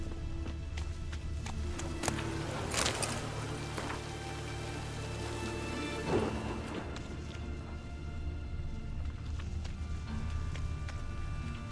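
Steady rain pours over a grimy town in The Witcher 3, a continuous hiss with faint splashes and occasional clip-clop thuds mixed in. The rain is fairly distant and even in level throughout.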